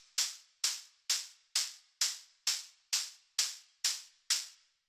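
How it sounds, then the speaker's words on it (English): Operator synth hi-hat in an industrial techno groove, ten crisp, bright ticks on the upbeats at a steady even pace, each decaying quickly, fairly faint and alone. "it's an operator hi-hat"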